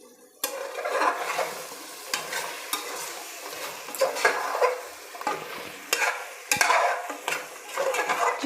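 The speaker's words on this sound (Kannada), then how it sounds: "ಚಿಕನ್ನು ಮಸಾಲೆ ಎಲ್ಲ ಚೆನ್ನಾಗಿ ಫ್ರೈ ಆಗಿದೆ" Chicken and masala frying in a pressure cooker for biryani: a close, uneven sizzle punctuated by repeated scraping stirs and occasional metallic knocks against the pot, with no one speaking.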